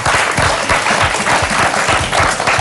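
An audience at a children's quiz festival gives a burst of dense, sustained applause, steady rapid clapping filling the whole moment.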